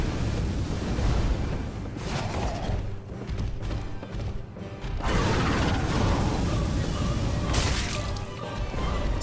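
Roaring bursts of gargoyle fire breath in the game Dark Souls, loud and sustained with crashing and mechanical clatter, surging again midway through.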